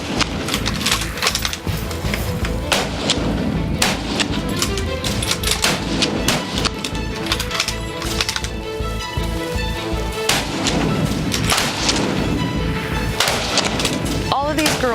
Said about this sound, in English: the noise from everybody shooting around them